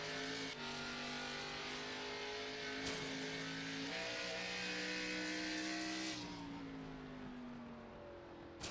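Race cars in the iRacing ARCA Series sim at the old Phoenix track, a loud continuous engine drone with shifting pitch as cars pass and accelerate, close and steady throughout with no talk.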